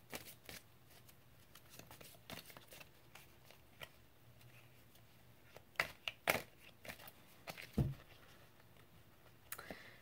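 Tarot cards being shuffled by hand, soft papery riffles and flicks in irregular bursts, close and fairly quiet, with no talking.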